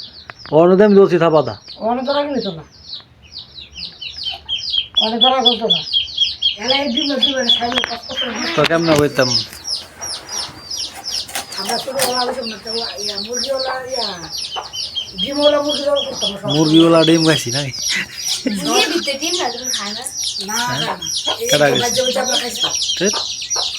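Domestic country hens, layers, cluck and cackle in a loud, repeated run close by, some calls rising into sharp squawks, with people talking over and between them.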